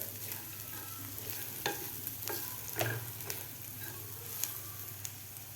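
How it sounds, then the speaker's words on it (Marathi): Coarsely crushed peanuts frying in a pan while being stirred, a quiet steady sizzle with scattered light clicks and scrapes of the spoon at irregular intervals. "शेंगदाण्याचं सुद्धा आपल्याला व्यवस्थित फ्राय करून घ्यायचं आहे"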